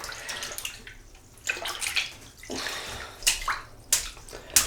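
Hot water running from a tap to build shaving lather, a splashing, uneven flow with sharper bursts and spatters near the end, close by and without talk.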